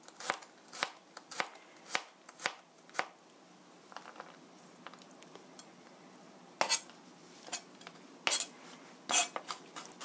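A knife slices and minces two garlic cloves on a cutting board in a quiet kitchen, with sharp, close chops in an uneven rhythm, a pause in the middle, then a few heavier strikes toward the end.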